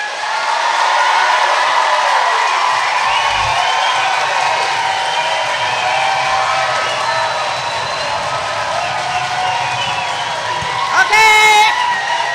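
An audience at a political candidates' forum claps and cheers, a steady, fairly loud wash of applause lasting several seconds with some voices mixed in before it tapers off.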